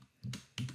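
Keys are pressed on a computer keyboard while entering a spreadsheet formula, two distinct clacking strokes close to the microphone, with nothing else around them.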